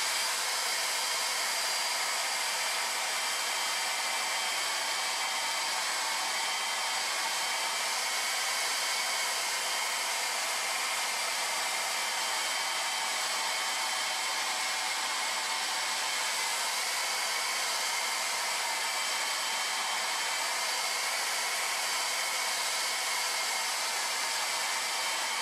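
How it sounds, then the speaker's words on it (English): A hair dryer on its low setting runs continuously at an even, moderate whir for the whole stretch, close by and unchanging, drying a plastic model kit. "Going to dry it really quick with our hairdryer on low."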